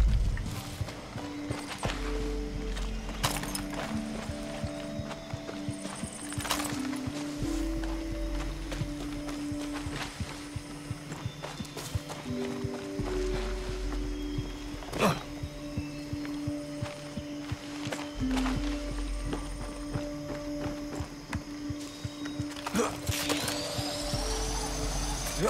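Horse hooves clip-clop at a steady riding pace in the video game Far Cry 6, with sharp periodic hoof strikes over a constant low engine-like hum and tonal game background.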